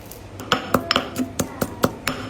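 Garlic, shallots and salt pounded together in a mortar for a Thai curry paste, about eight sharp, evenly spaced knocks with a hard clinking ring, close and clear, and nobody speaking.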